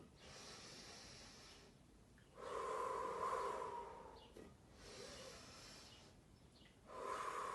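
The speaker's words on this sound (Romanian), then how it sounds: "Mai puternică respirația." Stronger deep breathing during a respiration exercise: slow, forceful cycles of nasal inhales and mouth exhales, close and airy, with short pauses between breaths.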